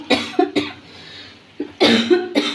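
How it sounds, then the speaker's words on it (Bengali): Several harsh coughs in bursts: two close together at first, then a pause and two more, loud and close, with no talking. "বাবা কাশিও হয়েছে, এই যে এরকম লাগছে দেখো"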